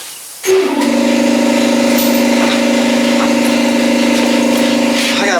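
Air compressor starts up and runs steadily with a loud tonal motor drone, while air hisses from a leaky, roughly ten-year-old airline hose; sharp clanks are scattered over the close, continuous noise.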